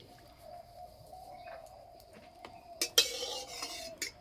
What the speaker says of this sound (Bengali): উনানে কড়াই বসিয়ে দেব